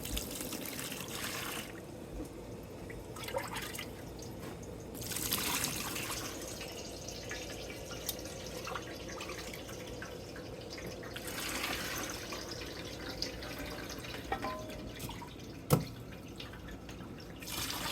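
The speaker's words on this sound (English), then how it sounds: "So now I'm gonna strain it in my ad hoc cheese press." Whey trickles and drips steadily from clabbered curds being strained in a makeshift cheese press, a faint continuous wet dribble with scattered drops and one sharper tap near the end, without talk.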